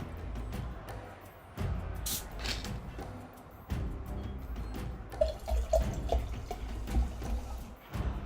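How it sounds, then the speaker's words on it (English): Water poured into a glass at close range, a steady splashing trickle with a few brighter drips and gurgles, lasting several seconds with no talking over it. "pouring water into a glass ASMR"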